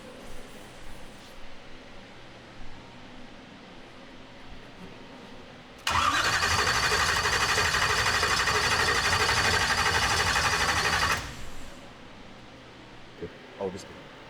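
A car engine cranks for about five seconds as a loud, steady burst, with the starter whirring before it cuts off abruptly. There is quieter background noise before and after, and people talk around it.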